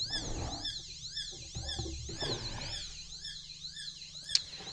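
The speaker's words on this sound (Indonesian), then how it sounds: "Jadi ketika si sensor mendeteksi adanya gerakan, maka secara otomatis buzzer akan nyala" An Arduino buzzer set off by a motion sensor wails in a rising-and-falling siren pattern, repeating steadily and fairly loud and close, with a brief sharp click near the end.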